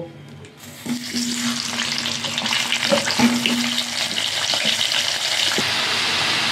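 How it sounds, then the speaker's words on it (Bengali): Potatoes fry in hot oil with turmeric for a Bengali chicken curry. A loud, bubbling sizzle surges up as they go in, then holds as a close, steady roar with occasional stirring knocks. "আলুগুলোকে আমি ভালো করে তেলের মধ্যে দিয়ে ভেজে নেব"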